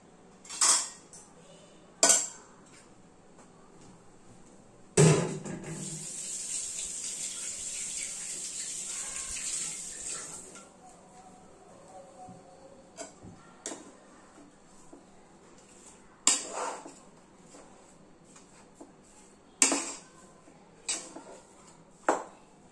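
A spoon scrapes and clinks against a bowl while food is mixed for purnam burelu, with sharp sporadic taps, a longer rattling scrape in the middle, and a faint running-water hiss behind.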